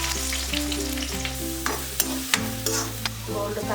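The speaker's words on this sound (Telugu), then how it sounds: "ముందుగా ఆనియన్స్ వేసుకోవాలి." Onions fry in oil in a kadai, a steady loud sizzle with clinks and scrapes of stirring, a few sharp spoon taps standing out, and no one speaking.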